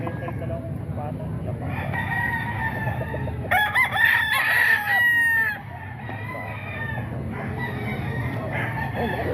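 Boston Claret gamefowl roosters crow at a market, one strong crow rising out of a busy murmur of crowd noise and distant talk, with fainter crowing and clucking around it.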